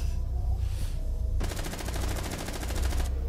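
Rapid automatic gunfire in Rainbow Six Siege erupts in a fast, sustained burst lasting over a second, following a lower steady background hum.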